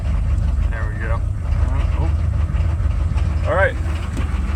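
A 1995 Chevrolet K1500 with a 6.5 turbo diesel idles steadily just after a cold start, a constant low rumble running throughout while a person speaks over it.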